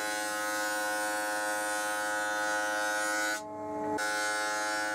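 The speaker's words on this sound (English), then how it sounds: "With the glue dry, I jointed one side and then ran it through the thicknesser again." A thickness planer runs glued-up salvaged oak, a loud steady mechanical hum with a strong tonal whine that drops briefly near the end as the board passes through, then resumes.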